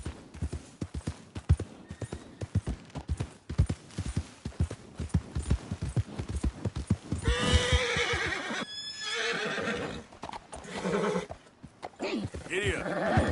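A video game horse gallops with rapid rhythmic clip-clop hoofbeats, then whinnies loudly partway through, close and prominent, with hooves resuming afterward.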